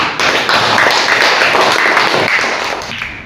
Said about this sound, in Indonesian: Tepuk tangan buat kelompoknya Ali.